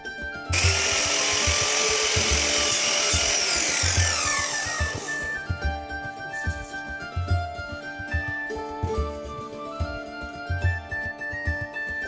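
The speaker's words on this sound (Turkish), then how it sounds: "günye makinesinde günyeli şekilde kesiyoruz köşelerini" Miter saw slicing through polymer skirting board at a mitred corner: a loud, sustained whine of the blade cutting for about five seconds, then the motor spinning down into lingering hum with faint knocks.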